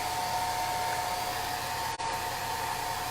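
A hair dryer blows steadily up close while drying chalk paste in a crafting session, a constant loud whooshing hum with a tonal whine and a momentary dip near the end.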